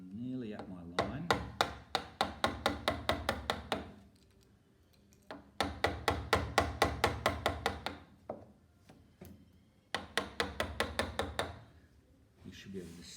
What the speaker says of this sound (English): Notice that I'm just tapping the mallet, the chisel with the mallet.